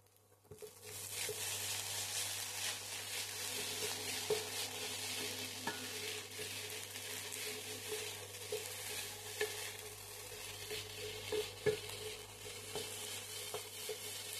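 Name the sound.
Maggi noodles frying with masala in a pan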